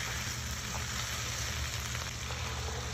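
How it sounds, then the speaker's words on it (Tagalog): Potatoes and carrots sauté in an oily pan for a curry mackerel dish, making a loud, dense, continuous sizzle that holds steady throughout, close and with no talk. "Tapos lagyan na rin natin yung patatas. Gisahin lang din uli natin."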